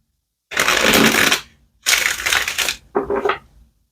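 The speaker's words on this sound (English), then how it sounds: "let's get one more good shuffle and then we'll see what the tarot has to say" Tarot cards being shuffled by hand in three separate bursts, two longer riffling passes and a shorter final one, crisp and close with quiet gaps between them.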